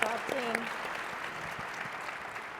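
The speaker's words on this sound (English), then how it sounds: "Round of applause right away for these folks" An audience at a symposium luncheon keynote claps in a steady, moderately loud round of applause, while a voice briefly speaks over its start.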